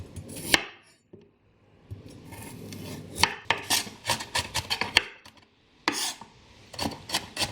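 A carrot being chopped on a cutting board for vegetarian momos, irregular bursts of quick knife strikes with short pauses between runs, close and crisp with no talking.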